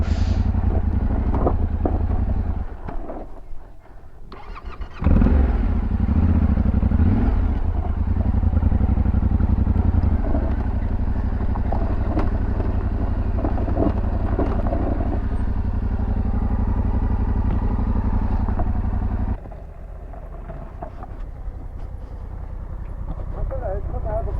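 A Yamaha Tenere 700 adventure motorcycle rides over desert gravel with a steady engine drone, wind rumble and crunching tyre noise. A rider talks over it for most of the stretch, and the engine note drops near the end.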